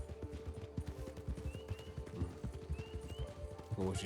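Hoofbeats of a horse clip-clop in a quick, regular rhythm in the RedM WildRP western roleplay game, fairly close and continuous, with a brief clatter near the end and no talking.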